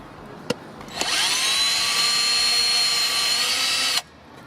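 A pneumatic impact gun spinning on the axle nut of a 1968 Baja Bug, one sustained loud whirring burst of about three seconds after a brief click, close and with no talking.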